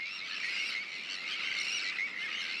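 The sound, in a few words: tern colony contact calls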